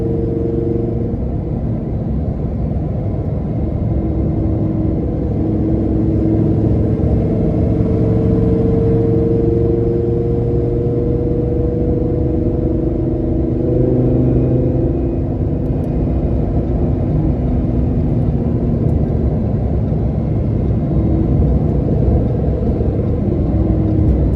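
A 2015 Lamborghini Huracan LP610-4 on a road test drive, its engine a steady, loud, continuous drone with shifting tonal bands as revs rise and fall, heard alone without talk for the whole stretch.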